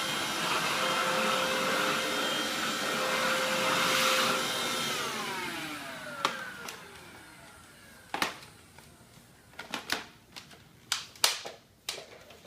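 A Deik 2-in-1 cordless vacuum cleaner runs with a steady broadband whir that winds down partway through, followed by several sharp clicks and knocks from handling the unit.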